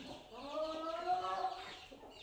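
A mother hen clucks softly in a barn chicken coop near her chicks, a low, steady run of close murmured clucks lasting a couple of seconds.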